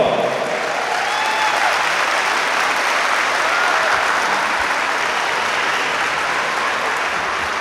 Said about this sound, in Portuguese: Cadê as palmas, pessoal?